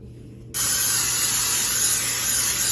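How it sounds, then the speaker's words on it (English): Butter-flavored cooking spray blasts onto a pan in one steady, close hiss that starts abruptly and holds without break to the end. "spray our pan with some butter flavored cooking spray"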